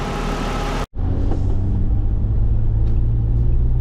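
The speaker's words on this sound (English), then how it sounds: "we're going to put the tools up and we will go for a test drive" A 1997 Jeep Cherokee XJ out on a test drive after a radiator and power steering pump repair, its engine a loud, steady, low rumble heard from inside the cabin after a brief cut at the start.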